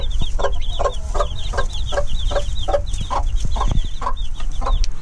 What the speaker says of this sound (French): on a fait couver notre nègre soie et elle nous a fait plein de petits poussins